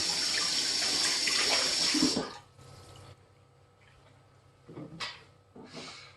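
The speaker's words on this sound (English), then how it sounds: "I'm just going to wash some of this stuff." Running water from a sink tap pours steadily as farmers' market produce, including dill, is rinsed, loud for about two seconds before dropping to a faint trickle with a few brief splashes.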